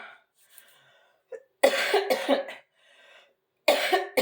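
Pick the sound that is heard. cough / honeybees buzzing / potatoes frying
cough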